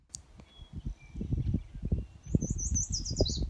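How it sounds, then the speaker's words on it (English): A song sparrow sings in a county park, its bright trilling phrase rising near the end over low rumbling and rustling noise, with other faint chirps earlier in the outdoor setting. "Song sparrow just sang again."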